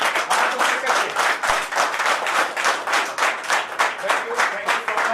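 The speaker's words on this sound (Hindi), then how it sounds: "मैं चाहूंगा सर के लिए एक बार जोरदार तालियां" Audience applause and clapping from a crowd at a company business-plan meeting, a dense steady burst of many hands lasting several seconds, loud and close, with no voices over it.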